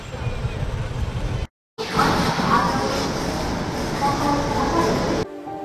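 The Howrah–Ranchi Shatabdi Express at Howrah station rolls out with a loud rumble and rattle of carriages. The sound breaks off briefly, then resumes, and faint voices sit under the train noise.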